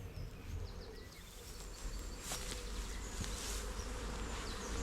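Honeybees buzz steadily around an open hive during an inspection of the brood nest, a continuous dense hum of many insects at moderate level, outdoors with no talking.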